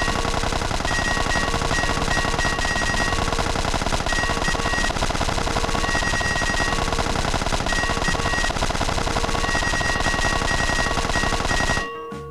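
Relentless automatic gunfire from GTA San Andreas Multiplayer on an Arizona server, with rapid Uzi-style bursts hammering loudly and continuously before cutting off abruptly at the end.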